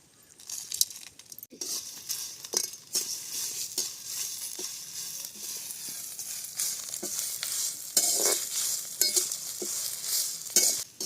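Lemon leaf chutney ingredients with onion powder and rock salt fry in oil in a traditional village kitchen, giving a steady close sizzle broken by frequent sharp stirring clinks and scrapes from a utensil.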